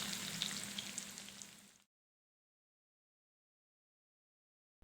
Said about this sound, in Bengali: এবার পেঁয়াজগুলোকে সফট না হওয়া পর্যন্ত ভেজে নিব।